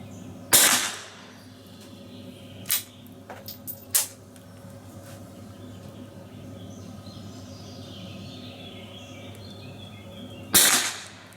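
A Welrod suppressed pistol firing old .32 ACP ammunition on an outdoor range: a few sharp, muffled reports spaced apart, one more after a long pause, with faint birds and a quiet background in between.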